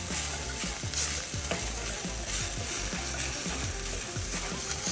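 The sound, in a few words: garlic clove frying in a pan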